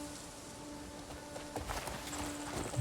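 Horse hooves clip-clop at a walking pace in the open-world game Crimson Desert, faint and steady over a quiet ambient bed with game music tones, growing a little louder near the end.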